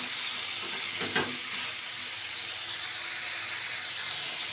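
Fried potatoes and prawns go into a hot pan for a Bengali dish, setting off a steady, close sizzle with a brief stirring clatter near the start, continuous hiss throughout and no talking.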